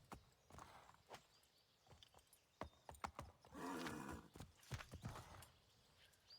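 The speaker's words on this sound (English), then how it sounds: "I just wanted a horse." A horse whinnies loudly in the middle of Assassin's Creed III gameplay, surrounded by sharp hoof clops and scattered thuds, fairly close and otherwise quiet.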